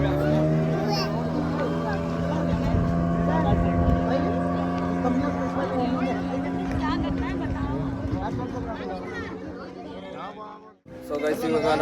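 A speedboat pulls away across a lake, its engine droning steadily, close and loud, with people chattering nearby, before the sound cuts off abruptly near the end.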